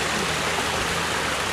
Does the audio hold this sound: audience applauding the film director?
no